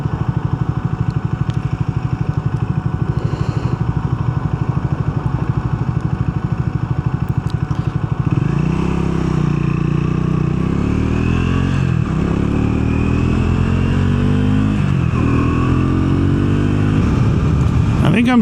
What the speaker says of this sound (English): I think I'm starting to get the hang of this Scrambler and its power, lack thereof.